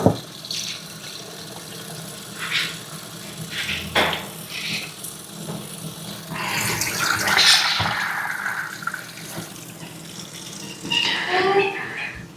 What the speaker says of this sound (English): I'm gonna go ahead and rinse it out.